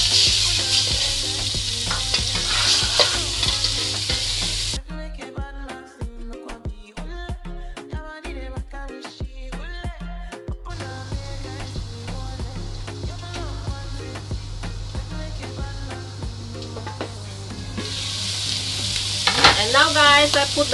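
Carrots and pepper stir-frying in a pan give a loud, steady sizzle with a rattling stretch of stirring in the middle, spatula scrapes and clinks breaking through the hiss.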